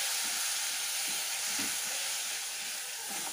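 Vegetables sautéing with a splash of water in a pan for a Bengali vegetable thali, giving a steady, close, continuous sizzle and hiss with faint stirring scrapes, no voices.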